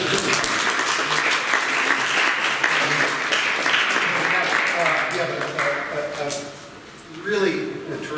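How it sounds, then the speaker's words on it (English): Audience applause following a panel discussion on a new Cold War, a broad sustained clapping that holds steady for several seconds before thinning, then briefly swelling again near the end. "That was grim, but let's please applaud."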